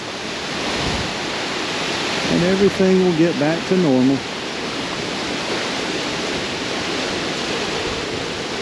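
Hurricane floodwater and wind rush steadily through a residential street in the Florida Keys during Hurricane Ian, a loud, constant wash. Someone speaks briefly over it.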